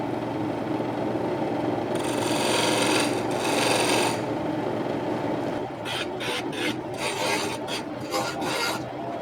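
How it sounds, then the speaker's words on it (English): Blade edge held on its side scraping fine points off wood at a lathe, giving steady close rasping with brighter bursts of scratchy strokes, some in quick short passes toward the end. "Let's just take the blade, turn it up on the side, and we'll scrape away those real fine points"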